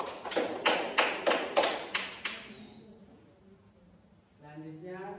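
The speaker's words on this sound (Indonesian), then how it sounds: "Mari kita beri aplaus untuk kita." Brief applause at a health education session on pulmonary tuberculosis: about eight sharp, evenly spaced claps close by, fading out, followed by speech.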